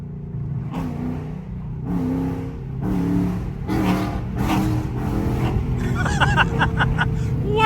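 A Chrysler 300 with a 5.7 Hemi V8 and tuned 180 thermostat drives along, its engine droning with surges of throttle and revving, heard close from inside the car.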